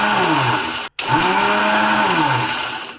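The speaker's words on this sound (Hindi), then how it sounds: "इसे मिक्सी के जार में दरदरा पीस लेंगे।" Mixer grinder jar coarsely grinding black peppercorns and fenugreek seeds, a loud continuous motor whir with a brief stop near the first second before it restarts and runs steadily.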